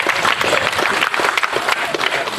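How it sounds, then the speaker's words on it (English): A big audience in a tent applauds the centennial committee at a town's 100th birthday celebration, loud continuous clapping close by, dense and unbroken. "big warm round of applause for them"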